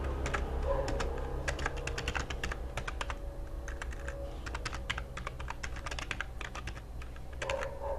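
Keystrokes from someone typing code on a computer keyboard during a Java programming session, rapid and steady, with irregular bursts of clicks over a constant low hum.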